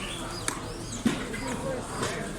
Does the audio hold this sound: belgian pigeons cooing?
yes